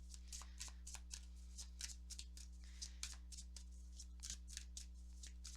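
Tarot cards being shuffled by hand, a quick run of close, crisp riffling flutters in a steady rhythm over a constant low hum.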